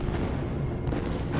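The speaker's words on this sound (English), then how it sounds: "a loud explosion from outside of the orb shook the entire room" A deep, sustained explosion rumble in a Warhammer 40,000 horror story, a low, dense roar that holds steady and loud throughout with no break and no voice over it.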